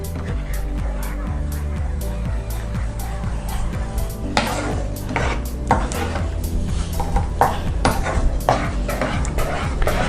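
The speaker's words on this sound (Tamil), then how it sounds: "நல்லா சுருண்டு வர வரைக்கும் நம்ம இந்த மாதிரி கிளறிட்டே இருக்கணும்" A spatula stirs thick mango halwa made with sugar and ghee in a metal pan, with steady close scraping and repeated clinks against the pan running throughout at a fairly loud level.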